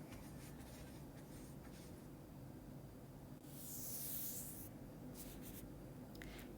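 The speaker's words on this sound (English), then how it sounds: "Now I'm going to dry my hands with clean, dry paper towel and dispose of the paper towel." Hands being dried with a clean, dry paper towel, giving a soft, close rubbing and rustling of paper that swells briefly in the middle, with no talking.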